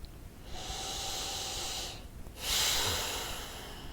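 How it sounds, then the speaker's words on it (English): A big, deep breath taken during a calming tapping exercise: a long airy inhale followed by a louder, forceful exhale, close to the mic and heard alone. "Big deep breath."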